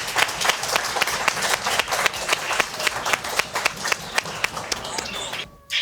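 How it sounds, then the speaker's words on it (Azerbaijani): A studio audience on a comedy talk show claps, with sharp, evenly spaced claps in a steady rhythm that carry on for several seconds before cutting off abruptly, with light voices in the background. "Alqışlayaq bunu."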